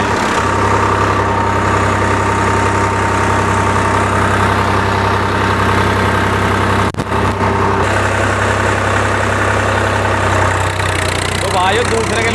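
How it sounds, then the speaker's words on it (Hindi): Swaraj 735 tractor engine running a Param sugarcane weeder in a field, a loud steady low-pitched drone throughout with one brief dip, while people talk over it. "दूसरे के लो में ट्रैक्टर चला लिया हमने"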